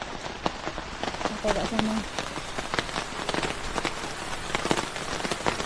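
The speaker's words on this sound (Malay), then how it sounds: "Hujan renyai." Light rain patters steadily on a surface with scattered drops tapping nearby, while a person speaks briefly over it.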